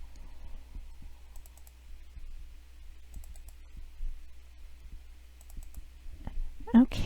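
A computer mouse clicks in quick, light pairs, several double clicks spaced out over a quiet room, ending with a brief louder rustle.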